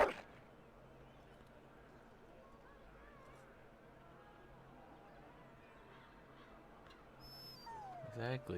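A puppy whimpers and whines in the fantasy video game Dragon Age Origins. The soft, wavering cries come faintly over a low ambient bed while voices talk, and a higher whine rises near the end.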